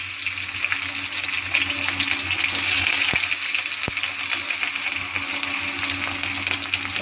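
Green chili, cloves, cinnamon and chopped onion frying in hot oil, giving a steady loud sizzle throughout with a couple of sharp clicks of stirring.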